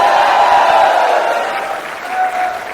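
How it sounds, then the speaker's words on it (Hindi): Loud crowd clapping at a meeting, dense at first and tapering off after a couple of seconds, with faint voices mixed in. "एक बार आप सभी के लिए जोरदार तालियां"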